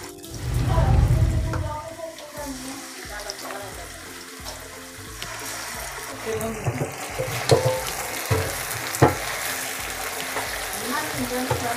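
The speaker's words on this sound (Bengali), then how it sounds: "আমি মাংসটা হালকা ভেজে নিব।" Meat fries in a hot pan, giving a close sizzle with stirring clatter and scraping that grows busier toward the end, with a brief watery rush near the start.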